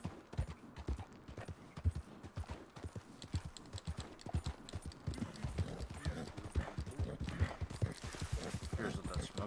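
Horse hooves galloping in Red Dead Redemption 2, a rapid, steady clip-clop rhythm close by with occasional snorts and a brief whinny, alongside game ambience.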